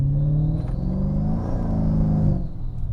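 A Mercedes CLK55 AMG's 5.4-liter M113K V8 rumbles loudly nearby, with the revs swelling and falling in a deep, throaty burst, and no voices over it.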